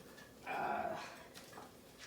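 A dog named Bear works at a muffin tin puzzle, giving a short burst of snuffling, whimpering noise and faint scraping, fairly close and quiet, with no one talking.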